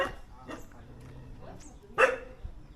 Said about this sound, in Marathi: कुत्रा कुत्रा भूकूच लागले आधी